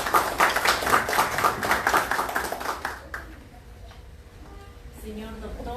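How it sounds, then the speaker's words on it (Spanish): A burst of loud clapping from an audience at a legal seminar on oral litigation, stopping abruptly after a few seconds, followed by a quieter room where a voice begins speaking. "Fuertes palmas, por favor."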